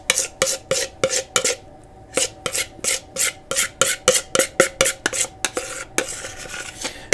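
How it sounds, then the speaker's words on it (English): Spatula scraping cheesecake batter around a Bosch CleverMixx mixing bowl, a rapid run of about twenty short, sharp scrapes and knocks against the bowl in a steady rhythm, close and clear with no talking. "And I will just scrape all of this."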